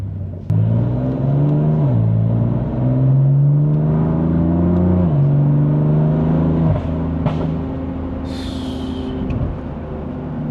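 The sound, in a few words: BMW M4 Competition exhaust revving while accelerating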